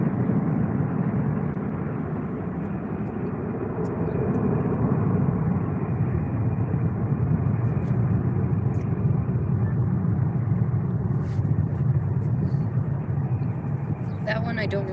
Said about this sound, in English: Nice Ryanair departure.